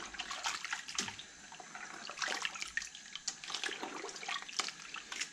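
Water pours steadily into strawberry fruit wine must in a large fermenting vessel holding about 17.5 litres, a continuous splashing, trickling stream heard close up with no talk.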